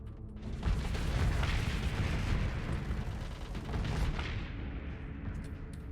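Spaceship weapons in the Starsector space combat game fire at an enemy ship, a dense rumbling barrage of booms and bursts that stays loud and continuous throughout.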